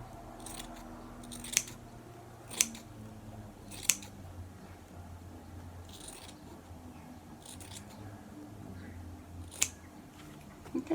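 Scissors cut through fabric for a pair of wrap trousers, a series of soft snips with a few sharper crisp closes spaced across the quiet room, close and fairly faint.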